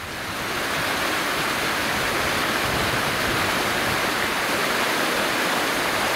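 Water rushes hard through a sluice gate on a dam, a loud, steady roaring wash close by that never lets up, with no voices over it.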